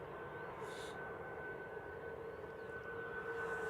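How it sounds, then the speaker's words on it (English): An Airbus A321 Classic airliner passes at Manchester Airport, a steady broadband engine roar with a sustained whine, loud and continuous throughout with no talking. "This is EC NLX, an A321 Classic."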